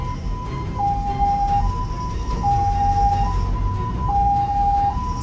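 An ambulance siren wails in a steady two-tone alternation, loud and close, as the vehicle pushes through morning rush-hour city traffic under a constant road hum.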